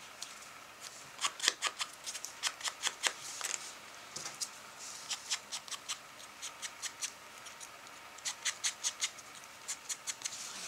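Scissors snipping paper words for a Halloween witch art journal page, a long run of quick, crisp cuts in rhythmic bursts close to the mic, alone without talk.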